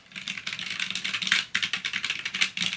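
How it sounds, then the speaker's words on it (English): Rapid, steady typing on a clicky full-size computer keyboard, close and loud, with crisp overlapping key clacks and no talking. "the keyboard that I have now is like, this is what it sounds like."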